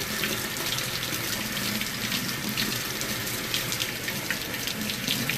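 A GE Profile dishwasher filling with water makes a steady, continuous hiss and rush of flowing water. It sounds close and even throughout, with no voices.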